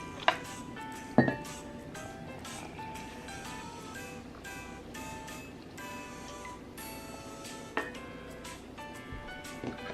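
A spoon stirs hot cocoa in a cup, giving a few sharp, isolated clinks against the rim over a quiet, even background, with no talking.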